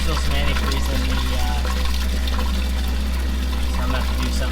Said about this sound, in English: It's going to spit out some antifreeze because there's still some antifreeze in the